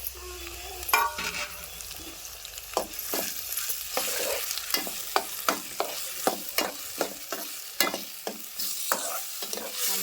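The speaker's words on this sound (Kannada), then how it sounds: "ಉಳ್ಳಾಗಡ್ಡಿ ಎಲ್ಲ ಒಂದು ಸ್ವಲ್ಪ ಫ್ರೈ ಆದಮೇಲೆ ಇದಕ್ಕೆ ಟೊಮೆಟೊ ಹಣ್ಣು ಹಾಕೊಳ್ತೀನಿ" Onions fry in a pan for a children's lunch-box recipe, and tomato goes in. A soft background sizzle sits under repeated scraping strokes of a spoon stirring, close and moderately loud.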